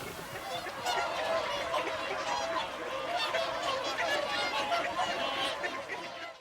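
A dense, loud chorus of honking geese calls continuously, many birds overlapping at once from a large flock close by, heard outdoors in Iceland.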